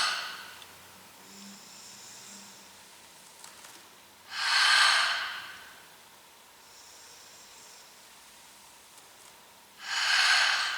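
Two strong, breathy exhalations during a vinyasa flow yoga session, several seconds apart and close to the microphone, each a loud rushing hiss over a quiet room.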